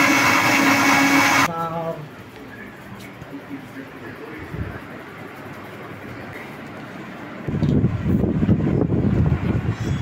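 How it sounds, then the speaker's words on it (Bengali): An electric mixer blends lychee with water into juice: a loud whirring burst at the start drops to a quieter, rougher churn, then surges loud again near the end. "এবার এটা মিক্সিতে বেটে নিলি লিচির শরবত হয়ে যাবে।"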